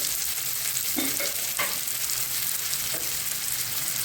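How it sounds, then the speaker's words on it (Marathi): Masala paste roasting in a pan for a matar paneer curry, a steady soft sizzle with a few faint scrapes of a spoon stirring, close and continuous. "वाटण छान भाजून घ्यायचं फक्त नरम असतोपर्यंत"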